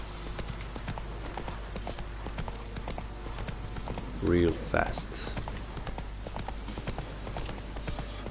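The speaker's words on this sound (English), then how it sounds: "Ride a horse back." Hoofbeats of a galloping horse in The Witcher 3, a steady clip-clop running under continuous game sound, with someone talking over it throughout and a brief louder burst midway.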